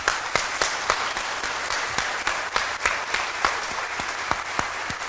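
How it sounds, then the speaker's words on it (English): An audience applauds four high school students taking part in a youth court program at a restorative justice gathering; steady, moderately loud clapping with distinct sharp claps standing out through the whole stretch, no voices. "If we could give them a round of applause"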